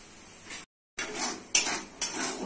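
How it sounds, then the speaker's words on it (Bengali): Spices such as turmeric, chilli, cumin and coriander powder with salt are stirred in a hot pan. Close scraping and clinking of a spoon against metal comes in short strokes, with a brief gap of silence and a soft sizzle beneath. "মশলা ভালো করে কষে নিতে হবে।"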